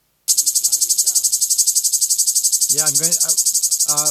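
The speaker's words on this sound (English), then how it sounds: "you can listen to a more loud cicada." A loud cicada shrills in a continuous pulsing buzz, its rapid rhythmic throbs steady throughout, while a few brief voices speak underneath.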